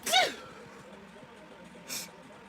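One sharp, close sneeze bursts out in a dusty room, followed by quiet breathing and a soft rustle a moment later.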